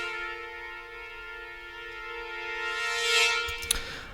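Sustained muted trumpets from the Hollywood Brass library swell with a forte piano effect, holding a steady chord that brightens briefly before a sharp cutoff near the end.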